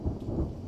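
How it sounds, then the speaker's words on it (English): Low rolling thunder in the Green Hell survival video game, a steady dull rumble that swells briefly and stays moderately loud throughout, heard alone with no voices. "And I'm hearing some thunder."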